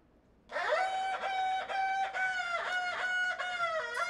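Instruments in a live Chinese folk band performance imitate bird calls, heard as a loud reedy wind melody with rising swoops, sustained tones and warbling ornaments that sound rooster-like.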